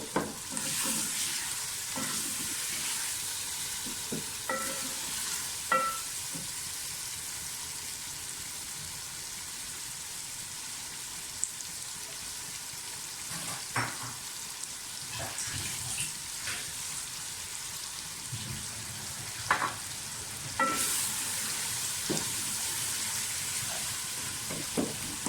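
Potatoes and tomatoes sizzle in ghee for an aloo biryani, a steady frying hiss running throughout, with occasional louder scrapes and clinks of a spoon stirring the pan up close and no talk.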